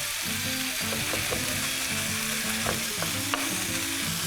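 Pieces of beef frying in a pan for stroganoff, a steady loud sizzle with intermittent clinks and scrapes of stirring, close up with no voices.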